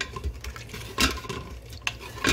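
A wooden spatula stirring and scraping the bottom of a pot, loosening browned crispy bits: repeated close, rough scrapes and knocks with a light sizzle underneath and no talk.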